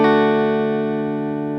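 A guitar chord is sounded with its four strings strummed separately, forming one bright, sustained ringing chord that slowly fades over about a second and a half, with no talking.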